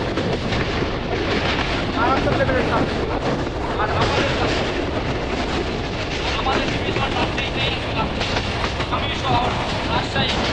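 A passenger train rolls past at a station stop in Rajshahi, Bangladesh. A loud, continuous rumble and rattle of wagons on the rails lasts throughout with no pause.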